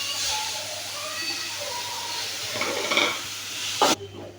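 Onions with green chilli, garlic and ginger sautéing in a pan, a steady close sizzle with stirring scrapes, a louder clatter near the end, no speech.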